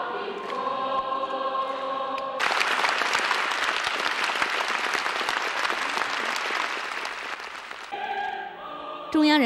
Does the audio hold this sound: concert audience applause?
yes